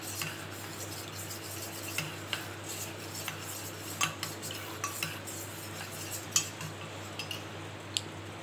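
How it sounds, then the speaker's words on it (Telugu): A spoon stirs custard powder into milk, its rim lightly clinking the bowl in irregular taps over a quiet background, with no talking. "2 స్పూన్స్ వేసుకొని ఉండలు కట్టకుండా ఇలా బాగా కలిపేద్దాం"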